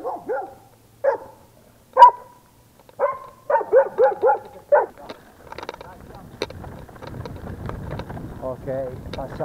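Dogs bark in a series of sharp, loud, close barks along a mountain bike trail on the Superga hillside, followed by rustling and wind over the microphone as the ride continues.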